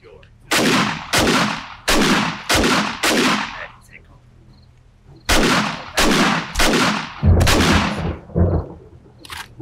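Shotgun blasts in the video game 7 Days To Die fire in two bursts, about ten loud booming reports in all, each with a rolling tail and a short pause between the groups.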